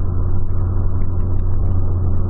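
Steady highway cruising in a Volkswagen Polo: a continuous deep engine hum and road roar at even loudness throughout, with no talking.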